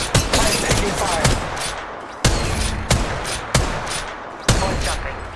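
Heavy gunfire fills a firefight in Apex Legends Mobile, loud and dense from start to finish. Several sharp reports stand out above the continuous roar of the shooting.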